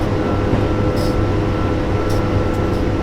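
A train in a zombie apocalypse driving video game powers up, giving a steady, close mechanical rumble with a low throbbing hum and a few brief, faint high hisses, and no speech.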